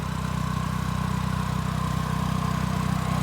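A generator running inside a noise-isolating shed drones steadily with a muffled, even throb, its low engine hum dulled by the enclosure.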